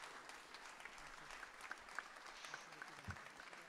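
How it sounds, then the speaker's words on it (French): Faint applause from a room of people at a congress, soft scattered clapping with a low crowd murmur underneath, heard from some distance. "On peut l'applaudir très fort, je pense."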